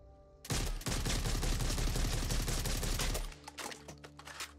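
Rapid automatic rifle fire in the zombie shooter Back 4 Blood: a loud, sustained burst of closely spaced shots lasting about three seconds, followed by a few scattered impacts and game sounds, with no talk.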